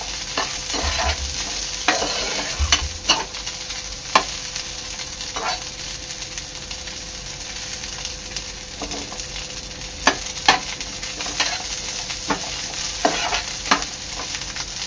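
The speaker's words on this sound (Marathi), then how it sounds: "गाजर टाकते, गाजर सुद्धा फ्लावर बरोबर परतून घ्यायचं आहे" Carrots and cauliflower sautéing in a pan for a veg kolhapuri, a steady close sizzle with repeated scraping stirs and clacks of a utensil throughout, no voices.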